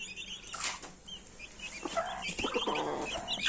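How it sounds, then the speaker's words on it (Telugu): Brooding hen sitting on eggs gives soft, close clucks and short throaty calls in quick irregular bursts, with faint rustling of feathers between them. "పొదిగేసే కోడి ఇదే"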